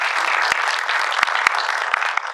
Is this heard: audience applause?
yes